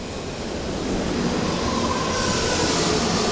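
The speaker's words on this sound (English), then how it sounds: "This is our train." An Odakyu line commuter train pulls into a station in Japan, a steady, loud rolling rumble with faint wheel squeal rising through the final second, and no voices.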